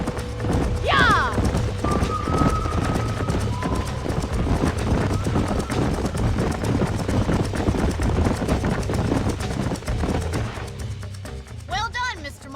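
Several horses gallop in Red Dead Redemption, hooves drumming in a steady rapid clatter, with a whinny near the start and a voice speaking over the hoofbeats.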